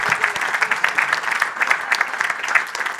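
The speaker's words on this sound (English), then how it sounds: "I suggest we give a big round of applause to the panelists" Warm, sustained applause from a conference audience for the panelists at a mobility event, many hands clapping densely and close, a touch uneven, with no voices over it.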